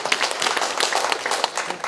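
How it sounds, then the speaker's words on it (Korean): Audience applause at a church pastors' seminar, a dense, steady patter of many hands clapping throughout, fairly close and even in level, with no talk over it. "박수하겠습니다."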